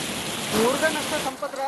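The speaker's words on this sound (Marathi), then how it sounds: "हिंगोलीमध्ये विविध ठिकाणी जोरदार पावसाला सुरुवात झाली आहे" Heavy rain pours down in Hingoli, a steady dense wash of broadband hiss throughout, with faint tonal sounds drifting over it.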